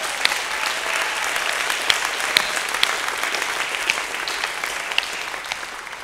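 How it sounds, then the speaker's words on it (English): A church congregation claps together in a steady wash of applause, dense and continuous, with a few sharper claps standing out and no talking over it. "Just give God a hand clap."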